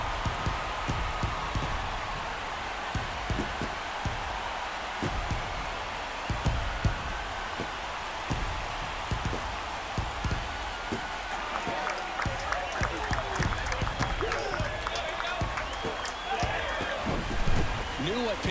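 Home crowd at a Braves versus Marlins game in MLB The Show 23 roaring after a home run, a broad sustained wash of cheering and applause with steady crackling texture and no talk over it.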